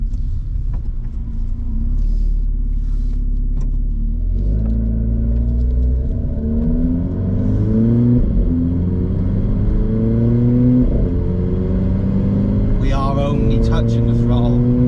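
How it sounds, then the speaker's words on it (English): A Renault Clio IV RS with a hybrid turbo fitted, engine idling then revving with a deep rising drone, loud and close, with brief crackles near the end. "put it into RS mode so we get some pops and bangs and stuff."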